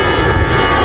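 Loud, steady drone of an airplane flying low near an airport, its engine roar filling the short moment close by with no talk over it.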